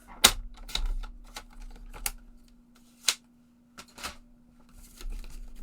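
A paper trimmer cuts cardstock, giving a series of sharp, separate clicks and short slicing scrapes, close and moderately loud, over a faint steady hum.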